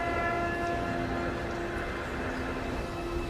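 A government train carrying people to a 1940s concentration camp in a dubbed documentary: a steady, moderately loud rolling rumble with sustained tonal hums, continuous and without pauses.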